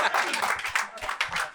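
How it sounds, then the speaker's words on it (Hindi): An audience at a live shayari and roast comedy show breaks into brisk, lively clapping that stays close and full, mixed with some voices. "दोस्तों जोरदार तालियां एक बार"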